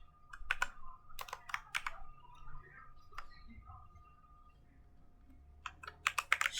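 Names are typed on a computer keyboard in quick bursts of crisp, close keystrokes, separated by pauses and with faint talk in between.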